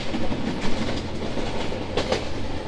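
Kapotaksha Express intercity train running from Rajshahi to Khulna, heard from on board: a continuous rolling rumble with rhythmic clickety-clack of wheels over rail joints, fairly loud and steady, with no talking.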